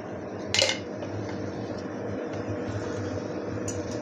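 A spatula clinks against a pan while fish and eggplant curry is gently turned, one sharp metallic scrape standing out over a steady low cooking rumble, close and fairly quiet.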